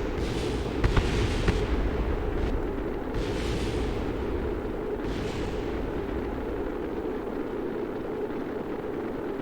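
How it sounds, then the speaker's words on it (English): Rocket parts blowing apart in Kerbal Space Program, a burst of loud crackling explosions early on, then a deep continuous rumble with scattered further blasts. "So many parts like just exploding."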